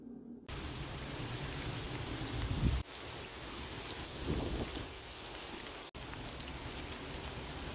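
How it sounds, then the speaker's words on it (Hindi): Heavy rain falling outside a home on a cold day, a steady, even hiss of downpour that fills the whole stretch, with a couple of faint low rumbles and no voices. "बाहर का वेदर, बारिश हो रही है बहुत ज़्यादा।"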